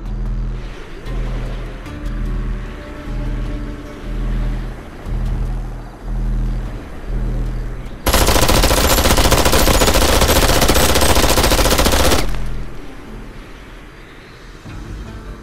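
A cartoonish game weapon fires in Worms W.M.D., a steady rhythmic pulsing of repeated beats followed by a harsh, loud roaring burst lasting a few seconds before it dies away.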